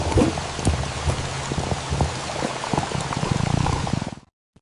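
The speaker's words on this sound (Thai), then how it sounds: "วันหนึ่ง ฝนตกหนัก" Steady, dense patter of heavy rain with scattered louder drops, continuous and close, then abruptly cutting to silence at the end.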